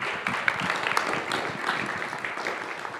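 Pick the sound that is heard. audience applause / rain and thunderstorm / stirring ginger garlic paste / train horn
audience applause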